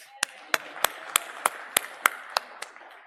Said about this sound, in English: Can we have a round of applause for Chinmay,